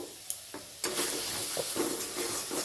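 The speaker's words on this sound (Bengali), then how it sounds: "খুন্তি দিয়ে অনবরত আমি নাড়তে থাকব" A spatula keeps stirring a mango and chhana paste in a hot wok, soft scraping strokes over a faint sizzle and a few sharp clicks, close and quiet with no voices.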